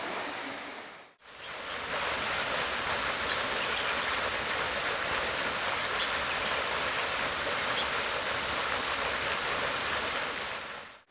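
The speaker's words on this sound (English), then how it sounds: "So enjoy the waterfall" A waterfall on the Samoeng Loop in Thailand roars as a dense, steady broadband rush, close and loud, after a brief dip at the start.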